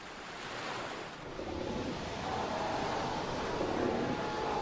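Sea waves wash steadily onto a wild stretch of coast, a continuous broad roar of surf with a little wind noise. The sound swells slightly louder toward the end, with no voices.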